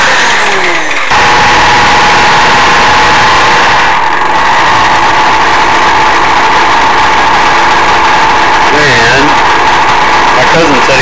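A faulty 120V Black & Decker bench grinder motor runs with a loud, constant whining hum, briefly cutting out early on and wavering near the end.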